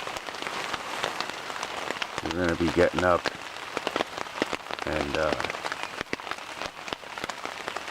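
Steady rain pattering on a campsite tent on an overnight canoe trip on the Moose River, a close, continuous patter throughout while someone speaks briefly in two short bursts.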